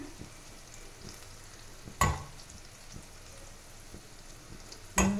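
Garlic and chili paste frying in butter gives a faint, steady sizzle close by, with two sharp knocks of a utensil against the pan and no voices.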